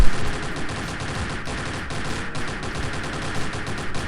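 Gunfire in the online game Ragnarok Online: dense, continuous rapid shooting blended with game sound effects, loud and unbroken for the whole stretch, with no voices.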